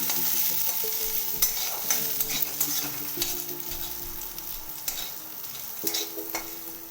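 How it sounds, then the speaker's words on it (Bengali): Gobindobhog rice is stir-fried in a pan, giving a continuous close sizzle with frequent scraping strokes of a spatula against the metal, and no talk over it. "এটা কিছুক্ষণ ভেজে নিতে হবে চালটা একটু ঝরঝরে যতক্ষণ না হচ্ছে"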